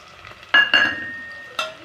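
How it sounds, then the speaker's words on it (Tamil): Onions and green chillies are stirred in a pan, with a soft sizzle under a few sharp spatula clinks against the metal. "பெரிய வெங்காயம் போட்டிருக்கேன் ஒரு அஞ்சு நிமிஷம் நம்ம வதக்கி விட்டுக்கலாம் நாலு பச்சை மிளகாய் போட்டுக்கோங்க"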